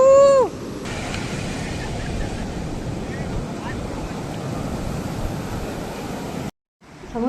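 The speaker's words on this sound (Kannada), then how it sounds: "ಹಿಂಗಾಗಿ ಫುಲ್ ಹೈ ಬರತ್ತ ನೋಡ್ರಿ ವೇವ್ಸ್" Sea waves wash in at a beach, a loud continuous surf roar with wind buffeting the microphone; a voice is briefly heard at the start before the surge fills the rest.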